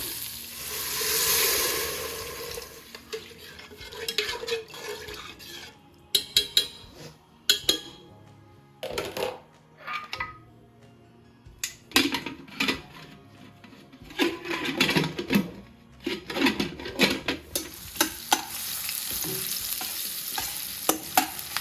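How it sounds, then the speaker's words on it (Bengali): Shrimp frying in a pan sizzle steadily up close, broken by frequent bursts of stirring and spoon scrapes against the metal, with no talking. "ভাজা ভাজা হয়েছে এখন এটার ভিতরে মানে কষানো হয়েছে"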